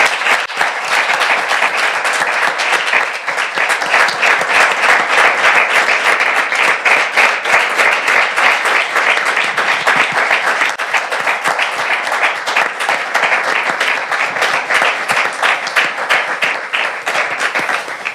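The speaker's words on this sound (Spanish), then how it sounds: "es de justicia darle hoy un aplauso fortísimo a Mercedes Gómez" Sustained loud applause from an audience at a health talk event, dense steady clapping throughout with no let-up and no voices on top.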